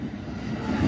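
A train passing at a railroad museum, a steady low rumbling drone that builds slightly louder toward the end, heard alone without talk.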